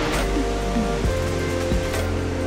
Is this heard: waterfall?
yes